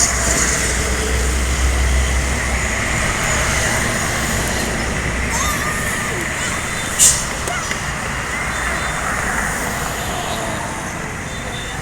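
An AG Trans Sumbar bus on the Bandung–Sumbar route rolls in from the toll road, its engine rumble blending into steady roadway traffic noise with voices nearby.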